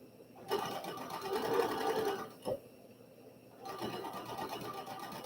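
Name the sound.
sewing machine stitching fabric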